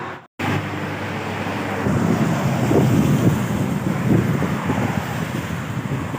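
Strong wind buffets the microphone of a cyclist riding on the way to the Padma Bridge, a loud, continuous low rumble that starts after a brief cut and holds steady throughout.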